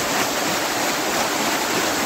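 A riverboat paddle wheel turns through the Mississippi River, churning the water into a steady, dense rushing wash with no breaks and no voices.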